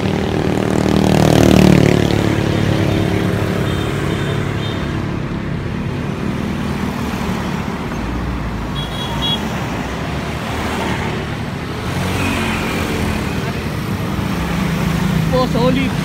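A motorcade parade of motorcycles rumbles past in Cavite, with steady engine roar and traffic noise throughout and occasional louder swells as bikes rev nearby, under some background voices.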